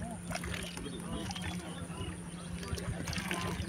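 Water trickles and splashes as it is poured out as an offering during a Mahalaya tarpan ritual, a steady soft pouring over a constant low hum.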